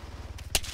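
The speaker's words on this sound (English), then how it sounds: "Taking shots on the other hill." A single gunshot rings out in the Arma 3 wasteland, a short loud crack set against a steady low rumble of background noise.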